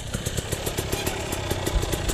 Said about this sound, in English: How is he revving it so low?